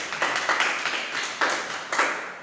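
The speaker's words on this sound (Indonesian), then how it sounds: "Oke, beri aplaus buat teman." A classroom applauds a classmate with a short burst of light clapping from a small group, a few hands patting in loose rhythm with distinct claps over about two seconds, fairly faint and slightly distant.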